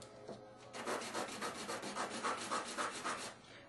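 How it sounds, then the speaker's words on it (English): Coarse sandpaper scrubs a wooden float, quick back-and-forth rasping strokes close by, evenly paced and fairly loud, with no talking. "This real coarse sandpaper makes the job quite easy."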